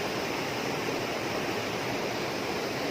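Steady, dense rushing roar of the Dwi Warna waterfall, a volcanic-formed fall where a cold light-blue stream meets a warm whitish-grey one, heard close and continuous with no voices.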